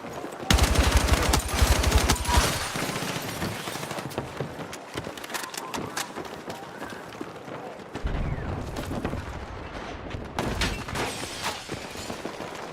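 M44 rifle fire in a shooter video game rings out as loud, repeated sharp cracks in irregular bursts across the whole stretch, with dense battle noise between shots.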